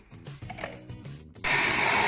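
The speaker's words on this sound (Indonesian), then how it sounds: "Kita blender hingga halus." A blender purees pandan and suji leaves with coconut milk, kicking in loud and steady after a short stretch of quieter kitchen sounds and then whirring on without a break.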